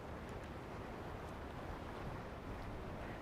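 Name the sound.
sea waves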